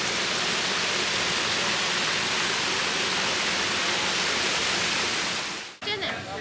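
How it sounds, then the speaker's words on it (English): Loud, continuous rush of running water, like a strong flow or waterfall nearby, cutting off abruptly near the end into a brief quieter moment. "This is water."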